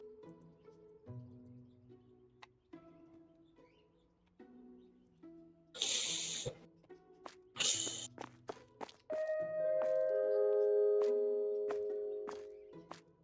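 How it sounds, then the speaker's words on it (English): Store door opening in the video game Supermarket Together: two short, loud, broadband bursts followed by a sustained bright chiming tone that rings for several seconds, over quiet background game sounds. "And opening this door."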